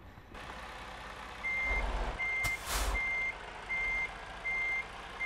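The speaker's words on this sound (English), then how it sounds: "Just backing in a trailer" A truck backing a trailer into place in American Truck Simulator, its reversing alarm beeping in a steady rhythm of long tones over engine rumble, with a sharp hiss of air brakes partway through.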